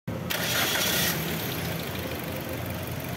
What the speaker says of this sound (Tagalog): Pa-start ko na nga itong makina.